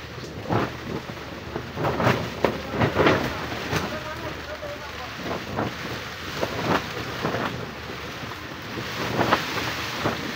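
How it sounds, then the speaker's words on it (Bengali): Wind and rain lash a small shelter, with gusty buffeting and heavy thudding bursts rising and falling throughout, loud and close. "বাতাস, বৃষ্টি।"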